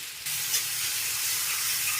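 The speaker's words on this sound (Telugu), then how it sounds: "ఇదంతా ఆయిల్లో, నూనెలో వేయించుకోవాలి." A loud, continuous sizzle of coarsely ground bottle gourd chutney hitting hot oil starts abruptly and holds steady, close and hissing.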